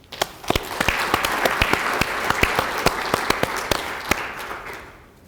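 An audience at a Gangnam district advisory council meeting applauds, sharp individual handclaps standing out over a steady wash of clapping that fades near the end.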